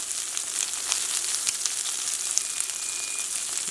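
Shrimp for crispy shrimp tacos fry in a pan, giving a steady, loud sizzle with small crackling pops throughout and no talking.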